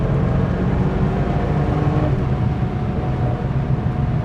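A 400-horsepower Porsche 993 Turbo accelerates hard on a private racetrack, its engine a loud, dense, continuous roar heard from close by with no break or pause.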